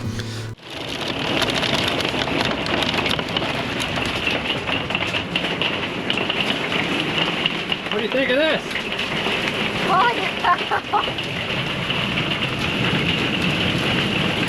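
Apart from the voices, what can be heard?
heavy rain and hail storm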